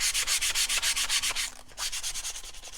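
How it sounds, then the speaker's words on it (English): Sandpaper rubs back and forth over painted wood in quick, close, regular strokes, about a dozen rasping passes, with a short pause partway through. "I'm going to sand with the direction that I painted"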